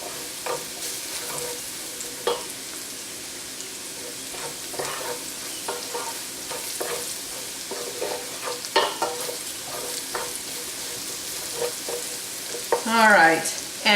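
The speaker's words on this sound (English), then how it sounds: "And we're going to stir this around a little bit." Spices stirred around in hot bacon grease in a pan for German potato salad, giving a continuous sizzle broken by repeated spoon scrapes and knocks, fairly close, with a louder clatter near the end.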